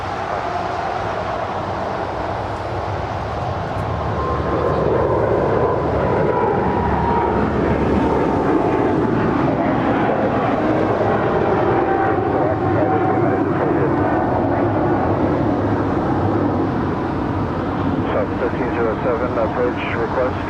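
A jet airliner on final approach to runway 25 left at LAX, its engine roar steady and loud throughout with a slowly descending whine, while radio chatter and voices come and go over the top.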